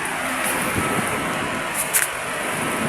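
A 16-inch Tyler electric stand fan runs on steady after its rotary switch is turned, a constant broadband whoosh of moving air with a slight hum and a brief faint tick partway through.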